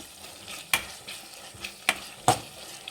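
Gobi manchurian being stirred in a pan with red chilli sauce: three sharp spatula scrapes against a low steady sizzle, close and fairly quiet, no talking.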